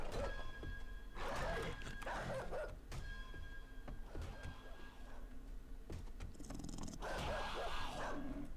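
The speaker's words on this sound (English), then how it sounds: "I'm hearing a dog somewhere." A dog barking and growling in the survival video game 7 Days to Die, several rough barks spread through the clip, somewhat distant, over a constant hiss of game ambience.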